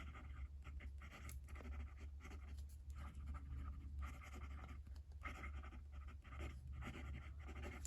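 A Lamy 2000 fountain pen with wet ink writing on coated paper, giving a steady close scratching and gliding sound in short strokes with brief pauses, over a low constant hum.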